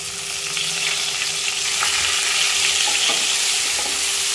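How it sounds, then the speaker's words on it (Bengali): Onions fry lightly in a pan for egg curry, giving a steady close sizzle with faint scraping as they are stirred. No voices are heard. "পেঁয়াজটা ভেজে নেব হালকা করে।"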